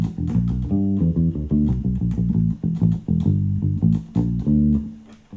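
Bass guitar played through a Roland P-6 sampler's Bass Me patch, modelled on a Noble 2 bass DI, in a loud, punchy line of plucked notes with short gaps between phrases, solo and up close.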